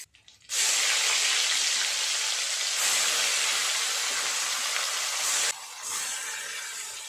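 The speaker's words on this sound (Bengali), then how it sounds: "বাকি মাছগুলো একইভাবে ভেজে নেব" Fish pieces, cut from a large gurjali fish, fry in hot oil in a pan. They give a loud, steady hiss that dips briefly once and then carries on close up.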